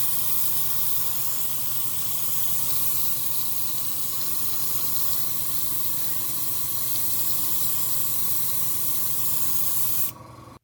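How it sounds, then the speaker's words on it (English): Continuous airbrush spray of Vallejo Model Air Sky Blue base coat onto a USS Enterprise model kit, a close, loud, unbroken hiss that runs steadily for about ten seconds before cutting off abruptly. "I'm going to apply a base coat of Vallejo Model Air Sky Blue"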